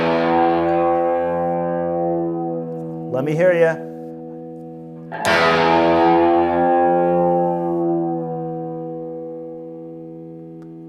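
A distorted electric guitar rings out sustained, heavily effected chords from a riff, with a short scraping slide between them and long decaying notes, as someone briefly speaks over it.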